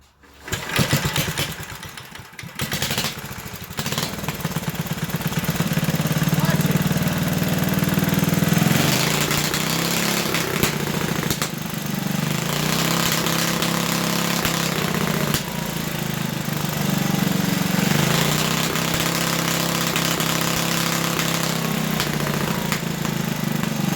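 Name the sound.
8hp Briggs & Stratton engine starting and idling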